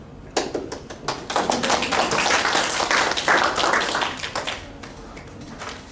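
Audience clapping at a conference on sustainable marine resource management, a crowd of hands starting abruptly and holding steady for several seconds before thinning out, fairly close and with no talk over it.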